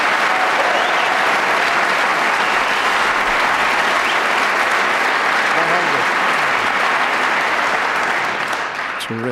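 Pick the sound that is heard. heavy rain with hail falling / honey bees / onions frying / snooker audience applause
snooker audience applause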